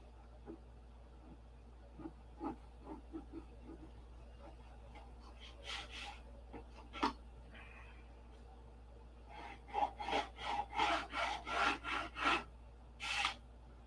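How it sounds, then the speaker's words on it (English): A P-47 scale model is sanded by hand: quiet scratchy rubbing strokes, scattered at first, then a quick run of sharper, louder passes near the end. "then sand it off."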